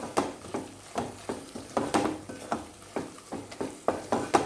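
Spices sizzle and fry in a pan for a Godavari-style fish curry while a utensil stirs them in a steady rhythm of scraping strokes.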